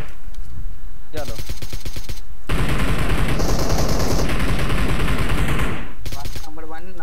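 Gunfire in the PUBG video game rattles loud and close in rapid automatic bursts: a short volley, a long sustained stretch of fire, then another burst after a brief pause.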